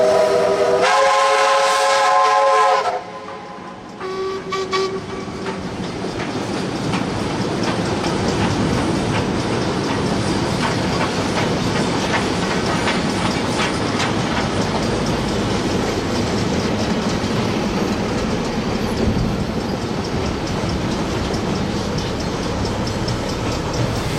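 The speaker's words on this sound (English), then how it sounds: "Whistles are exchanged to each other as 1236 crosses the Wanganui River" Steam locomotive 1236 sounds its whistle in a long multi-tone blast while crossing the Wanganui River in New Zealand, then rolls on with a steady loud rumble and rhythmic wheel clatter over the bridge.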